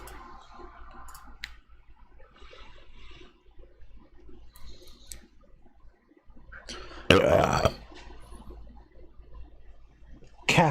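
Casper the dog lets out a single loud, gurgly burp near the end, standing out over quiet room noise and a few soft clicks.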